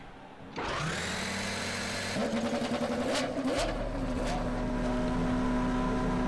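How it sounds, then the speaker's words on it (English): Race car engines fire up in the NASCAR Racing 2003 video game during an Indy 500 recreation: a sudden loud roar erupts, then several engines settle into layered, droning idles. "Drivers, start your engine."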